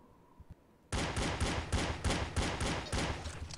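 Loud, regular automatic gunfire from the shooter game D.I.R.T. Project starts abruptly after a short near-silent moment, then rattles on in rapid, evenly spaced bursts.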